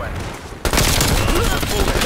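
Loud, sustained automatic hip-fire from a gun in Call of Duty Cold War begins abruptly after a quieter moment and continues as a dense volley. No voices are heard.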